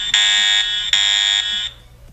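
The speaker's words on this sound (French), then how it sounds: "c'est la sonnerie de mon téléphone pour me dire qu'il y a eu une alarme de déclencher" A loud electronic alarm notification tone from a phone, signalling a triggered Digoo DG-HAMA home alarm, sounds in two bursts, the first short and the second longer, then stops abruptly. The tone is shrill and steady, with no talking.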